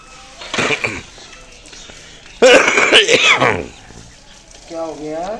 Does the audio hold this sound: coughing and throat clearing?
yes